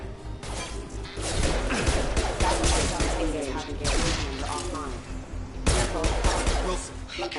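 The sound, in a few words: gunfire in a PS4 shooter video game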